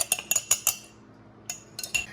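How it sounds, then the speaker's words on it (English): Metal knife clinking and scraping around the inside of a jar of mole paste, several short bright scrapes in quick succession, a pause, then a few more, close and alone. "So run your knife all the way around and it should just come right on out."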